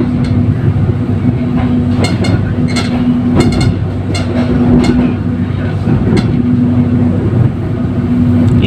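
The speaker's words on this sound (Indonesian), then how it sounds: "Ini kan kereta api pinggiran" Riding aboard the KAI Kertajaya passenger train, a loud steady rumble fills the cabin, with a series of sharp rail-joint clicks and clacks recurring every second or so.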